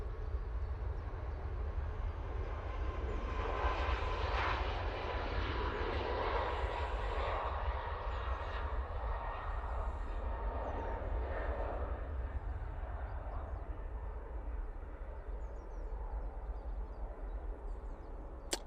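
An airliner rolls for takeoff at Manchester Airport, its engines a low, steady, distant roar rising and swelling over the whole stretch; no talking.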